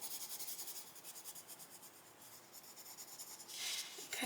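Close, rhythmic strokes of a white colored pencil burnishing paper on a coloring page, a soft scratchy rubbing that repeats steadily and grows slightly stronger near the end.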